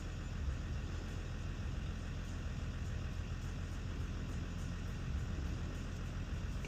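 A cold 2017 Range Rover Sport 3.0-litre diesel idles at about 832 RPM with a faint, steady low rumble and no change over several seconds.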